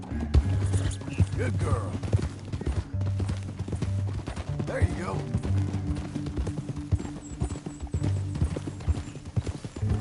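A horse's hooves clip-clop steadily on the ground in a Western video game, with a mechanical rattle underneath and a few short spoken words over the rhythm.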